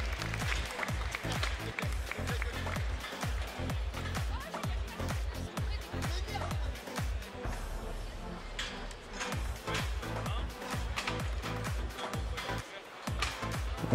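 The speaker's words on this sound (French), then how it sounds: "On peut applaudir et féliciter encore une fois Hercule" Audience applause at the Paris agricultural show during a Gascon cattle competition, sustained clapping mixed with a booming rhythmic pulse of amplified music and a PA voice underneath.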